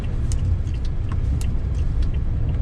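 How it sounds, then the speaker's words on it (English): A 2020 Toyota Tundra SR5 pickup truck making a U-turn gives a steady, close cabin rumble of engine and road noise, with faint ticks and clicks over it. "let me do a quick U-turn here since I still have you, just to show you how easy that is in the Tundra"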